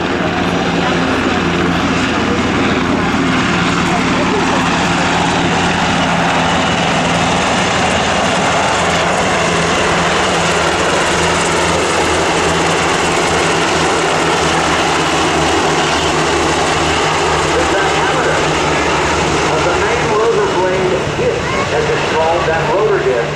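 UH-60 Black Hawk helicopters fly at an Air National Guard airshow in Rhode Island, a loud continuous rotor and turbine roar throughout, with an announcer talking over it.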